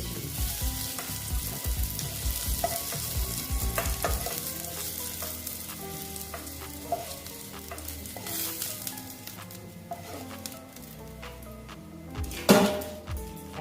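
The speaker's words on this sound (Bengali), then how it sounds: "উচ্ছেটা আমি ভেজে রাখো দিকে ভেজে নিচ্ছি" Bitter gourd sizzles in frying oil as a spatula stirs and scrapes around the pan. The hiss is loud at first and eases partway through, with a sharp clatter of utensils near the end.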